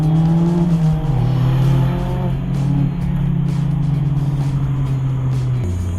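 A Mazda MX-5 Miata on Cusco coilovers accelerates hard on a mountain road, its engine a loud, close, continuous drone that climbs and then drops in pitch through gear changes, with no talking.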